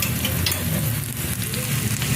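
Garlic and onion sizzling loudly in hot oil in a pan, close and continuous crackling frying with occasional stirring.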